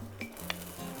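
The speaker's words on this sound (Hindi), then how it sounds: "ये मेरा गार्लिक गया सारा पैन में।" Chopped garlic dropped into a hot pan, giving a soft sizzle with a couple of brief clinks of a utensil against the pan, close and fairly quiet, no voices.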